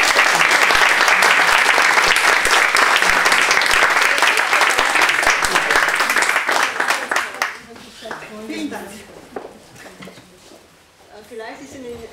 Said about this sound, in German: Verdient einen Applaus.